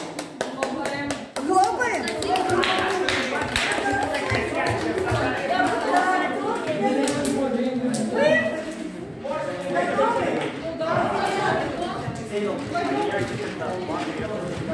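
A group of participants at a children's-rights and tolerance training seminar claps together, a burst of crisp hand claps at the start giving way to chatter and voices with scattered claps underneath.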